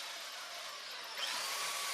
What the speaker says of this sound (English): And so working with a belt sander